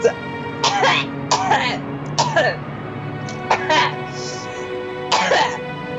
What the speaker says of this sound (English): Realistic speeches by Kinzo are interrupted by coughing and hacking and death